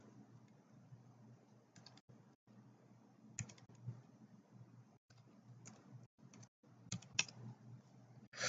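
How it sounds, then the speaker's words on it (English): A password is typed on a computer keyboard, a faint, nearby string of light key clicks in short irregular bursts with brief pauses, and no voices. "Type in your password."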